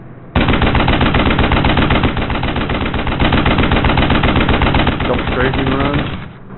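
Rapid machine-gun fire from a WWII fighter strafing a church in a flight simulator game, a dense sustained burst lasting several seconds, loud and close, with faint voice chatter underneath.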